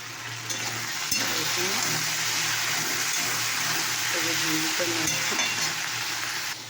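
Spices and chillies fry in a pan on a home stove, giving a steady, close sizzle that runs the whole time with soft stirring noises and faint voices in the background.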